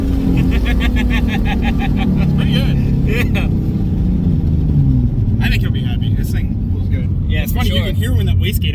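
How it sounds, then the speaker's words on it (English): A turbocharged Ford Mustang S197 V6 with a low-mount turbo kit runs loud and steady while the turbo wastegate opens with hissy, fluttering bursts in the second half, and people talk over the engine. "hear when that wastegate opens now"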